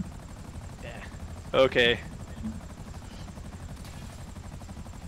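A helicopter in Grand Theft Auto Online drones as a low steady rotor rumble beneath players chatting over voice chat, with a couple of short sharp game sounds in the middle.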